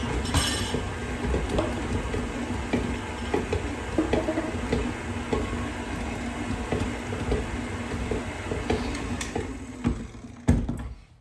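A blender whirs steadily at close range, grinding ground pecans for cheesy pecan crackers. Its motor hum and churning hold constant for the whole stretch with small clinks, then a brief louder jolt comes near the end.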